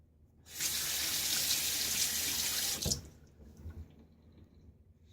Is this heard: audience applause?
no